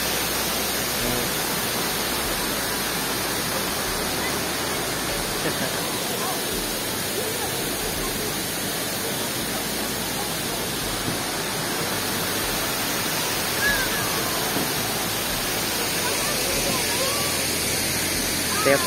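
Tad Kuang Si waterfall near Luang Prabang, Laos, a loud, steady broadband roar of falling water that stays unbroken throughout.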